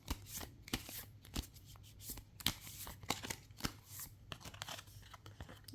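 Tarot cards being shuffled by hand in a series of quick, crisp riffles and slaps, irregular in rhythm, fairly close and moderately quiet, with no talking.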